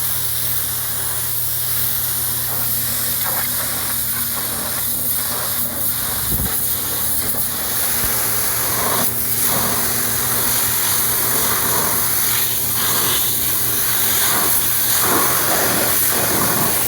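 Water spray hoses degreaser off a car engine, a steady broad hiss running continuously and fairly loud with a low hum beneath, no talking.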